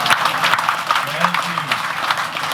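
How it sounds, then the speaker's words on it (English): Tour passengers on a Kauai river boat trip applauding a family, a modest patter of scattered claps close by, with talking voices running through it. "How about a round of applause for the family"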